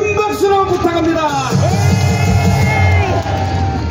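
A crowd at an outdoor civic rally cheers and yells with sustained shouts and whoops, loud and close, while an amplified voice rings over the din.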